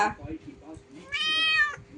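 A cat shivering in winter cold lets out one clear, drawn-out meow of about half a second, close by, among a person's nearby talk.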